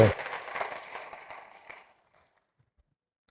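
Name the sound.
congregation applause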